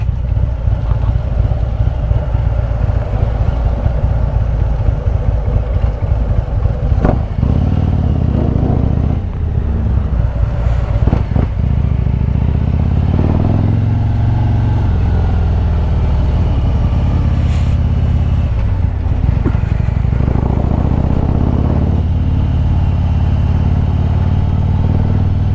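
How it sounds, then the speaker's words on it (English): A loud Harley-Davidson Road Glide Special motorcycle fitted with a new clutch rumbles steadily throughout, its deep engine note holding close and continuous with a few clattering bumps and small shifts in throttle along the way. "Damn, his bike's loud too."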